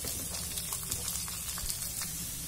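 Half-sliced big onions frying with crushed garlic in a pan for a potato pepper fry, a dense continuous crackling sizzle with scattered pops, close and steady with no talk.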